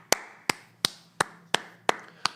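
One person claps as applause during a live football World Cup watchalong: seven sharp, evenly spaced claps, loud and close, with no talking.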